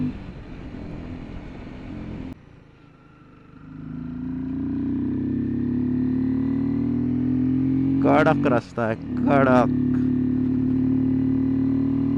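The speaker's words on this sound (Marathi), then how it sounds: "गाडीचा आवाज बघ ना" A vehicle engine on a road ride from Mumbai to Malshej drones steadily and grows louder as it pulls, with a brief dip before rising again; someone speaks briefly over the engine near the end.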